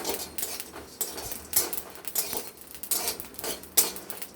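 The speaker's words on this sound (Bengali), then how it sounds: "গোটা জিরেটা ফুটফুট করে আওয়াজ হচ্ছে" Whole cumin seeds frying in a pan, scattered crackles and small pops in irregular bursts, close and fairly quiet, with light metallic clinks of utensils and no speech.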